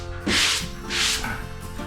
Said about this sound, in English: this is my 100 grit sand block here, and I'm just trying to smooth out those edges.